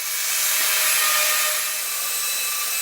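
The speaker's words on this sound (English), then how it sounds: "A small roundover bit is used to ease the top of the dog holes." A router with a small roundover bit eases the tops of dog holes in a Black & Decker Workmate top, giving a continuous high-pitched whine close up with no one talking.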